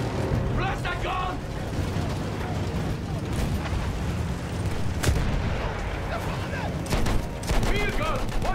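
Field gun fire in Battlefield 1 thunders as repeated booms and blasts over dense battlefield noise, with shouting voices breaking through at the start and again near the end.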